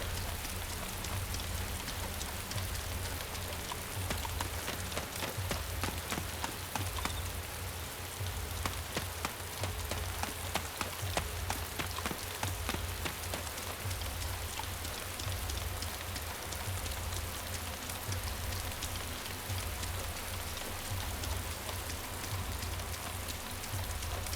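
Steady, dense rainfall in the game DayZ hisses continuously for over twenty seconds, an even wash of countless drops with no talk and little change in loudness.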